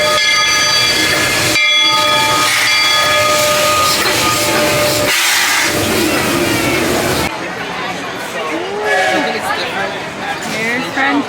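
A Disney World train at Frontierland rumbles loudly nearby with a tonal horn-like blast, then crowd chatter and clattering continue as people talk over the rolling noise.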